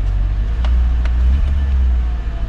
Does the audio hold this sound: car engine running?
yes